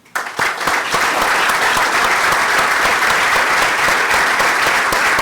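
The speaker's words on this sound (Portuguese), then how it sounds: "Peço uma salva de palmas." Loud, dense applause from an audience at an academic year opening ceremony, starting abruptly and continuing steadily as a sustained wash of clapping.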